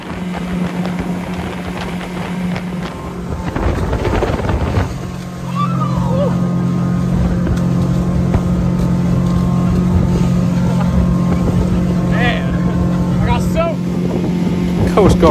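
A motorboat engine drones steadily with a low hum, buffeted by wind noise across the microphone; a brief burst of louder rumble partway through.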